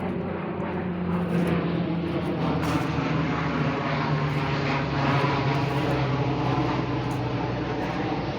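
A steady propeller airplane drones overhead, a loud continuous engine hum that holds throughout with no talking.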